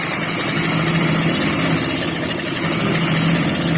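Sewing machine stitching a trouser seam, a loud continuous motor whir with a steady mechanical hum and rattle, held at close range for the whole stretch without talking.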